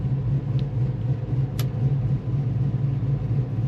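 A 1957 Chevrolet Bel Air restomod's LS3 V8 idles nearby with a low, uneven, loping cam rumble, steady throughout with a couple of faint clicks.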